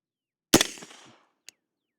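A Daniel Defense PCC direct-blowback pistol-caliber carbine fires once at a target 52 yards away: a single sharp, loud crack with a short decaying echo, followed by a faint click.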